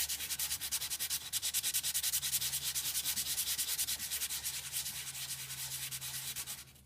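Someone hand-sands a small wooden heart with rougher-grade sandpaper, close by. The quiet, rhythmic back-and-forth scratching strokes repeat steadily and come alone, with no talk.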